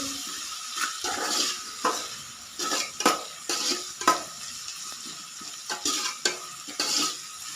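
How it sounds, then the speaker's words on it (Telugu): Tomato and ivy gourd curry cooks in oil with a soft background sizzle, broken by a series of distinct scraping and clattering strokes of a spoon stirring the pan, roughly one every half second to second. "ఇప్పుడు బాగా ఫ్రై అవుతుంది"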